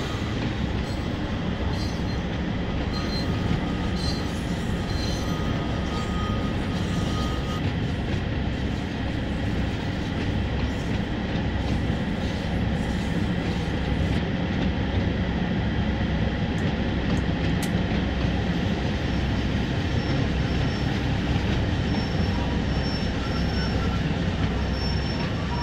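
A train in the West Cornwall route of Train Sim World 2 runs with a continuous loud rumble and rolling wheel noise, occasional wheel squeals and clicks over the track, no talking.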